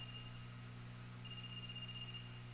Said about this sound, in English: Is that a phone ringing?